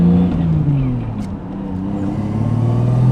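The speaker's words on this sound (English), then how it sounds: "Dude, it's blowing the tires off instantly in second." A 600 whp car accelerates hard in second gear with the tires spinning, a loud, steady engine roar whose pitch climbs and holds for about three seconds, close and continuous inside the cabin.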